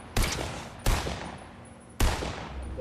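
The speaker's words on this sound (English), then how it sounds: "There's some shooting going on over here." Three sharp gunshots in the video game Fortnite, spaced irregularly, each cracking loudly and then trailing off into a fading echo.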